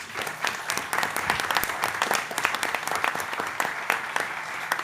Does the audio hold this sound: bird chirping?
no